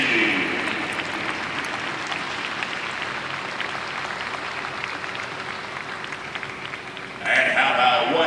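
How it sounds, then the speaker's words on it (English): Sustained applause from a dinner audience at a baseball showcase welcome event, dense steady clapping throughout that swells louder near the end. "how about a final round of applause for the Power Showcase High School National League team"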